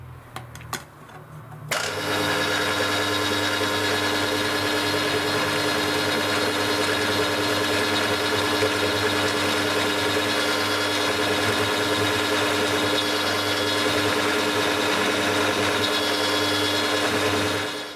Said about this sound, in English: so change that for a centre drill.